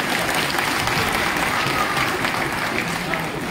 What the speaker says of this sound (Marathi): त्यांच्यासाठी एकदम कडकडीत टाळ्या झाल्या पाहिजे.